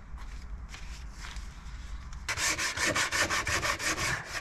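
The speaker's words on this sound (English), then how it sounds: "I'm literally just sanding everything." Hand sanding of wooden parts for a budget bathroom cabinet, starting with soft scattered rubbing, then turning into loud, close, rhythmic back-and-forth scrapes.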